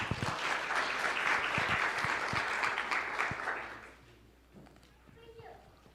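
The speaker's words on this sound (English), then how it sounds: "Please give him a round of applause." An audience at a Martin Luther King Jr. Day of Service event gives a round of applause for an imam, steady clapping that fades out after a few seconds, with children's voices faintly audible underneath.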